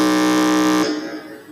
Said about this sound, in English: let's hear if your buzzer is working.